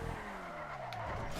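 Car tires skid and squeal in the GTA Online video game, a steady sliding screech with a falling engine tone underneath, alone without talk.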